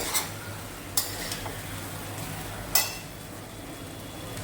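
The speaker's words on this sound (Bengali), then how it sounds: "এবার এই চিনিটাকেও ভালো করে ভেজে নেব, মানে মিশিয়ে নেব চালটার সাথে।" Rice and sugar fry together in a pan, a low steady sizzle under three or four sharp scrapes and clinks of a stirring utensil against the metal, with no talking.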